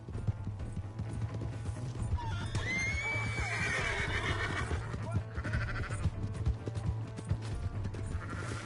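A horse neighs in Red Dead Redemption 2, with hoof clip-clop and a whinny rising mid-clip over a steady game hum and busy background noise.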